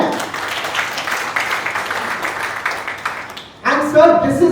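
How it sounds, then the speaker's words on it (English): An audience at a training session claps together in a sustained burst, then stops abruptly, and a voice follows. "Can you clap once again?"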